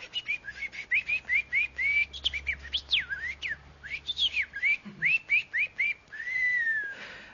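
A man whistles an imitation of a nightingale's song during a 2004 Turkish TV broadcast, alone and close: rapid repeated chirps and trills, a few slurred phrases, then a long rising whistle, over a faint low hum.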